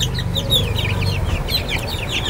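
Chicken chicks cheep and peep in a rapid, continuous stream of high chirps, close by and fairly loud over a low background rumble.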